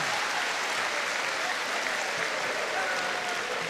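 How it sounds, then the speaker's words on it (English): Audience applause at an evening school music event, even, continuous clapping from a large crowd heard at a moderate distance, steady and unbroken throughout. "Can we just give everybody a nice round of applause again?"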